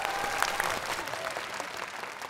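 Warm applause from a studio audience at a comedy competition show fills the room, broad and continuous with a faint crowd murmur beneath it and no clear speech.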